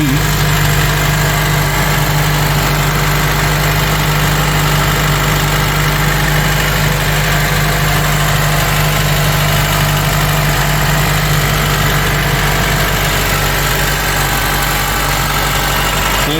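A Honda Element's engine idles steadily just after starting, with a constant close mechanical hum and vibration that runs unbroken throughout, with no voices.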